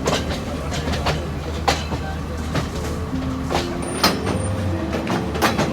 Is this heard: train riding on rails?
yes